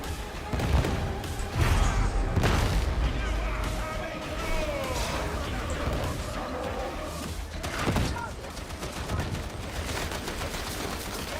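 Heavy blasts in Darktide, the Warhammer 40,000 co-op shooter, on Malice difficulty, with grenade explosions and dense gunfire, several loud booming impacts standing out from the continuous roar of combat.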